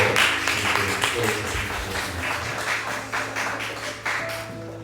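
Church congregation clapping warmly during a presentation of gifts and flowers at a Sunday service, many hands applauding at close range over a low sustained musical hum, with the clapping surging in waves.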